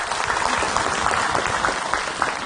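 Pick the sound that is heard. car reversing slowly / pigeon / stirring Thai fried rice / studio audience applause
studio audience applause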